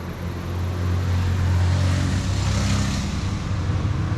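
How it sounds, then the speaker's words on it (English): A big plantain truck drives by on a countryside road under repair in rural Colombia, a loud rumbling engine that builds to a peak and then slowly fades, with no voices. "This is one of those big trucks"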